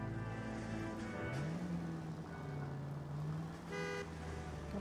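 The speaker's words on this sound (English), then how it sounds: "Don't honk at me." A car horn in the 1940s Los Angeles game L.A. Noire sounds as one long, steady honk lasting a few seconds over a constant engine and traffic hum, with a brief higher blare near the end.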